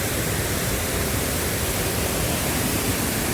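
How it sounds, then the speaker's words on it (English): River rapids near a waterfall in Scotland in winter, a loud, dense, unbroken roar of rushing water up close with no voices. "Look at the rapids."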